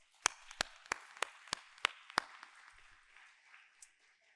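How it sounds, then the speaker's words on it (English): Claps from a small audience applauding students at a student writing, art and video contest come in sparse, separate, distinct smacks at a steady pace, then trail off into faint scattered claps. "So let's give all of our students a round of applause."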